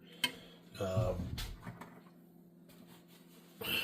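A baked ziti mixture is stirred in a big pot, with a few soft clinks and scrapes of a utensil against the metal. The sounds are quiet and sporadic, and a person talks between them.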